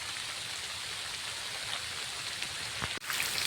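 Heavy rain pours down on a farm field, a thick unbroken wash of hiss and spatter, steady and close, with a brief bump near the end and no talking.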